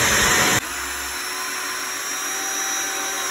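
A power drill whines loudly and steadily while driving screws into a ramp during home renovation work, a sharp burst at the start settling into a continuous close drone.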